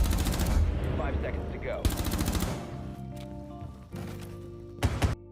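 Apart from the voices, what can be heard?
MP5 gunfire from the Arknights video game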